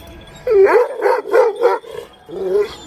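A dog barks in a quick run of four or five barks, then one more after a short pause, close and fairly loud.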